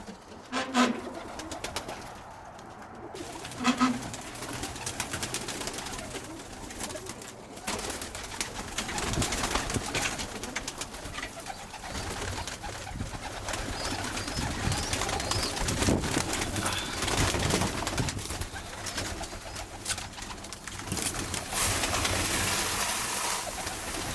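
Birmingham Roller pigeons coo repeatedly in soft, low warbling calls amid rustling and shuffling in a loft, with a steady background hiss filling the enclosed space.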